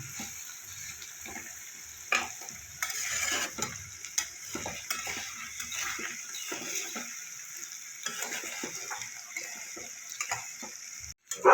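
Chicken sautéing with spices in a pan for Bengali chicken posto gives a steady sizzle and fry, with stirring scrapes and clicks recurring throughout, fairly close and without talk.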